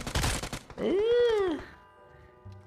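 Gunfire in the mobile battle-royale game PUBG Mobile: a short, loud burst of rapid shots at the start, followed by a rising and falling vocal exclamation and quieter game ambience.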